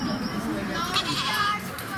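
Goats at a zoo pen bleat and call over background chatter, with a voice talking nearby throughout.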